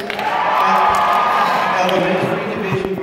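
A large crowd at a state music convention session, cheering and whooping loudly and steadily through introductions of orchestra and vocal division officers, with dense layered voices throughout.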